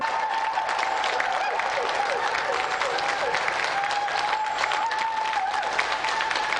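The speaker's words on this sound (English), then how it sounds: "of applause. For Carl Roberts." An audience at a televised game show applauds steadily, a full room of clapping with a few faint cheers mixed in, continuing evenly throughout.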